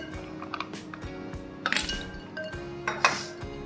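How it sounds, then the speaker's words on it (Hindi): Ice tumbles into a bowl of very chilled water for ice noodles, giving a few sharp clinks and rattles against the dish, two bursts close together with quieter handling noise between. "और अब इस वाटर में हम डालेंगे आइस।"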